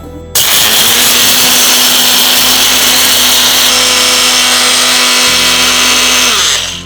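A mixer grinder runs loud and steady, grinding herbal ingredients with a harsh motor whine throughout and a slight shift in pitch partway through, with no talk over it.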